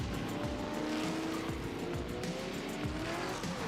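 A 500-horsepower car with a naturally aspirated V8 roars loudly and continuously, its engine note rising and falling, with squealing tires mixed in.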